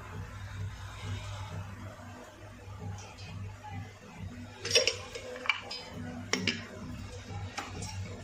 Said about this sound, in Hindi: मैंने एक पतीली में थोड़ा सा घी डाला है और थोड़ा सा अब मैं इसमें तेल मिक्स करूँगी।